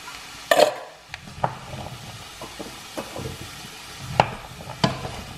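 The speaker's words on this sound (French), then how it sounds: "je continue à mélanger encore un peu le tout comme ceci" Carrots and butternut squash sweating in a pot are stirred, with scattered scraping knocks from the spoon and a few sharp clacks over a faint, low cooking hiss. No one talks.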